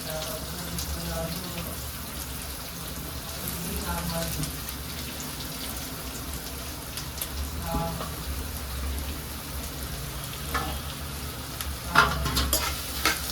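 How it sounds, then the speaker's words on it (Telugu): Chopped onions with cloves frying in a pan, a continuous dense sizzle with occasional scraping clatter from stirring, close by, growing slightly louder and busier toward the end, no speech over it. "ఆనియన్స్ని బాగా ఫ్రై చేసుకోవాలి ఫ్రెండ్స్."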